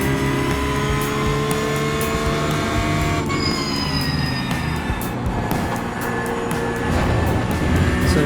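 A race car's engine drones steadily in a racing video game during a car setup test, a loud continuous tone with engine pitch shifting as it moves through corners, and no talking.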